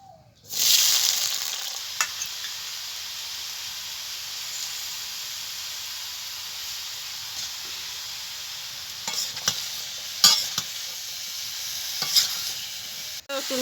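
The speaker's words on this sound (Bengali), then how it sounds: "একইভাবে এঁচোড়টাকেও ভেজে নেব।" Raw jackfruit pieces frying in a pan of hot oil, a steady close sizzle with hiss and occasional stirring clatter, a few louder scrapes near the end.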